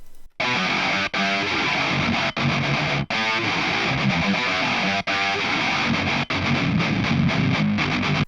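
A heavy metal guitar riff for the track plays alone, dense and distorted, with a steady chugging pattern broken by brief regular stops.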